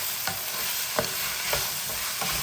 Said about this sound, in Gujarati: હવે આપણે બાકીના કેપ્સિકમ બધા એડ કરી દઈશું.